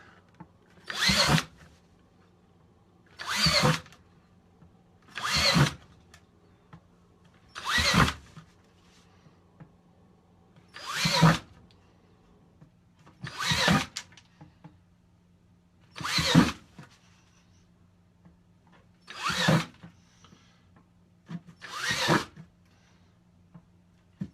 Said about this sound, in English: drill a hole here.